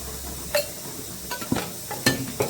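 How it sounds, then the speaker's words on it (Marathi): Spiced brinjal, onion and crushed peanut mix being stirred in oil, with a few distinct scraping and clinking strokes of a spoon against the pan over a quiet background. "आणि आता हे मी एक जीव करून घेणार आहे. ह्या सगळ्याचा एक जीव करून घेणार."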